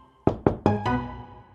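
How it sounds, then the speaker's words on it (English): Four sharp knocks land on a door in a children's cartoon, close and loud, in a quick, slightly uneven rhythm, each with a brief resonant thud. "Someone knocked on the door just now."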